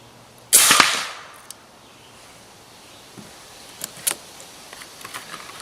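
An AirForce .457 Texan SS big-bore air rifle fires one sharp, loud crack that decays quickly, followed by faint clicks and light handling clatter.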